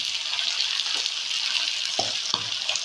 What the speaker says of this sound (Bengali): এবার মাংসগুলি ভালো করে কষিয়ে নেওয়া হচ্ছে